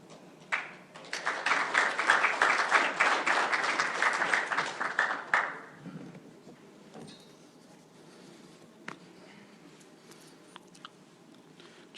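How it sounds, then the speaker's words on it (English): Audience applause at an Alberta Indigenous investment announcement for the Cascade Power Project, a few seconds of steady clapping from a room that stops abruptly, leaving quiet room tone with scattered small noises. "Just waiting for my second round of applause from that room here"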